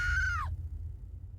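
A woman's shrill scream, loud and close, sliding downward in pitch before cutting off after about half a second, leaving a low background rumble.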